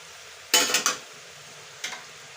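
A spoon stirs a homemade grape pickle as panch phoron powder goes in: three quick close scrapes and clinks in a row, then a pause and one softer scrape, all in a quiet room.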